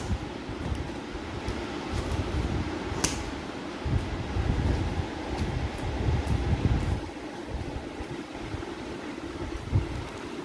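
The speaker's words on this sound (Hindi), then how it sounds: "आवाज़ आ रही है पंखे की" A household electric fan runs steadily and close by in a hot room, a continuous whooshing airflow hum that fills the whole stretch without pause.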